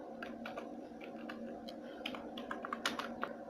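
Keys clatter softly on a computer keyboard while text is entered into an Excel cell, in an irregular run of quiet clicks that grows slightly busier toward the end, with no one speaking.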